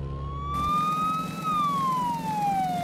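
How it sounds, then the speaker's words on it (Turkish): A wailing siren on an ambulance in a Minecraft game, a loud, steady electronic tone that rises then slowly falls, sounding close and continuous with no talk over it. "Hadi ambulans, nerede kaldın ya? Sesleri yakından geliyor ama hala gözükmüyor"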